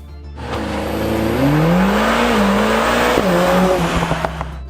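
A Mercedes CLA 45 AMG turbocharged engine revs hard toward 7,200 RPM and climbs in pitch, holding a high whining note before dropping back, loud and close with no talking.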